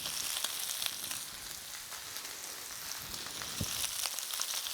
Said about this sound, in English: Like kind of frying a bit of lettuce.